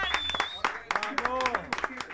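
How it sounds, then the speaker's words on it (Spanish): Applause for Titán during a live stream, sharp scattered claps landing under lively overlapping talk and a sung or drawn-out voice, close and moderately loud. "te mando un aplauso"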